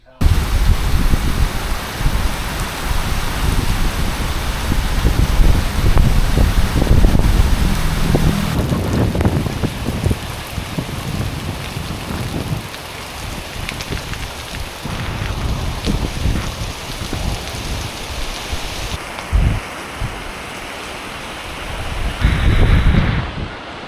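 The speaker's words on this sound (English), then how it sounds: "A lot of rain" Heavy rain pours during Hurricane Milton, a loud, steady roar with gusting wind that swells and eases, and a few knocks and bumps near the end.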